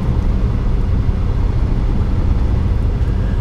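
A truck heading out to collect a trailer drives along the road, heard from inside as a loud, constant low engine and road rumble with no voices.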